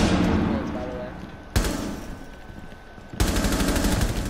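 Gunshots in Rainbow Six Siege on the Consulate map, two sharp loud reports about a second and a half apart followed by a rapid burst, over a steady noisy game background.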